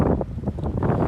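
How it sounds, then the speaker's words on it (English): Strong gusty wind from Storm Ciara buffets the microphone on Plymouth's waterfront promenade, a continuous low roar with surging gusts and no voices. "it's still pretty windy"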